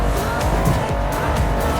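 Mercedes 6x6, an army-derived six-wheeled off-roader, driving in Forza Horizon 4, with a steady loud engine drone and tyre noise running continuously throughout.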